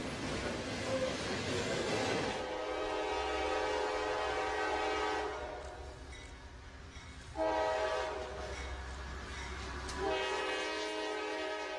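A train roars past at close range in a film scene, its loud sustained horn blaring over heavy rumbling rail noise, fading briefly before the horn swells again.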